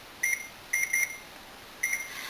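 Kitchen timer beeping while a lentil leek soup cooks, sounding short bright electronic beep bursts in several clusters, alone in a quiet room.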